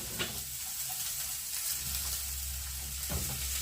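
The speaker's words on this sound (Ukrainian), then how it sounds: "Розігріла, скидаємо цибульку." Chopped onion sizzles steadily in a preheated frying pan, a continuous close crackling hiss with no talk.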